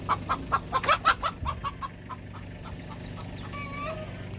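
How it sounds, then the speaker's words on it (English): A rooster squawks in a rapid series of loud, clucking cries, then fades, leaving faint chirps and a steady outdoor hum. "I hear Freddie squawking at her."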